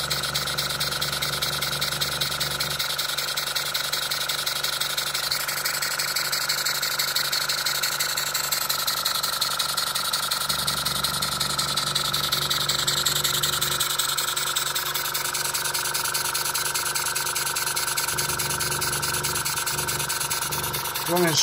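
Overhauled S10 engine running after a rebuild, a steady even drone with a constant mechanical whine, close and continuous throughout while someone talks over it.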